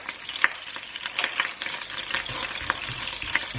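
Whole cumin seeds crackle in hot oil in a pan for a home chicken handi, a steady sizzle dotted with sharp little pops, close and fairly loud throughout.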